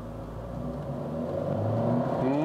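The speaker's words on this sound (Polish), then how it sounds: "Teraz możemy się na chwilę zatrzymać i dodajemy na maksa gazu." A 2014 Renault Clio Grandtour GT 1.2 TCe 120 engine revs hard at full throttle while stationary, a steady roar that rises in pitch as the throttle opens, close and continuous without speech.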